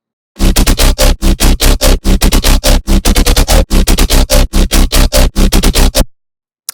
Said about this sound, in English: I guess the first main bass of my song